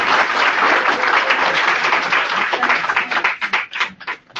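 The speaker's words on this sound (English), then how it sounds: "let's give Daniel a round of applause" An audience at a genealogy talk breaks into warm, dense applause that holds steady before thinning into scattered individual claps near the end.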